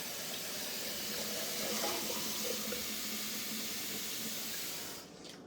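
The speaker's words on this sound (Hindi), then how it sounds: "और देखो पानी चला के छोड़ रखा" A tap left running in a home kitchen pours steadily with a continuous, even splashing hiss that fades out just before the end.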